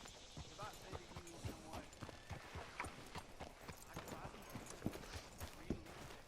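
Horse hooves in Red Dead Redemption 2 clip-clop in a steady rhythmic walk on hard ground, close and clear, with people talking over them throughout.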